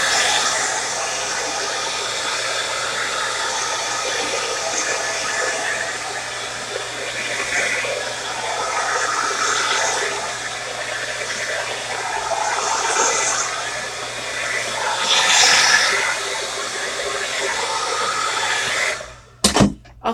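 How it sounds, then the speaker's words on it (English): A hair dryer blows steadily on high for about twenty seconds, a broad continuous whoosh, ending with a brief clatter as it cuts off. "Take the blow dryer, I put it on high."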